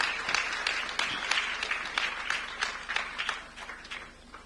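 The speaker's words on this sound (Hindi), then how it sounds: "मैं चाहूंगा एक बार जोरदार तालियों दे पूरा सभागार उनके सम्मान में करतल ध्वनि से उनका स्वागत करे।" Audience applause filling an auditorium at a formal event honouring a dignitary, steady dense clapping throughout with slight swells, no speech over it.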